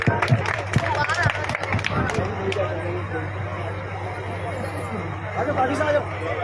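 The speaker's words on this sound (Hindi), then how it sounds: "भाषा के लिए जोरदार ताली।" Audience at a community celebration of the Parmar family in Jalore claps in a brief burst of loud, scattered applause over a steady hum, while crowd chatter and talk carry on beneath.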